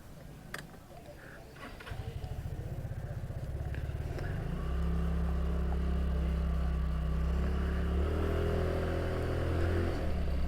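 Motorcycles on a road in Baler rumble past one after another, their engine drone building from faint to a steady loud roar as more bikes pass close by.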